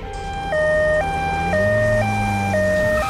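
Cartoon ambulance siren wailing loud and close in a steady two-tone hi-lo pattern, with a low engine-like drone rising underneath partway through; no talking.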